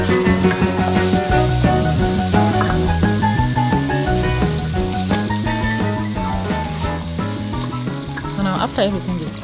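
Offal stew sizzles and fries in a pot while being stirred, a steady hiss that stays loud throughout, with a dense layer of music running over it.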